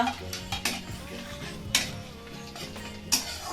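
Whole spices such as cumin and dried red chillies crackle softly in hot ghee while a utensil clinks sharply against the pan several times at irregular intervals.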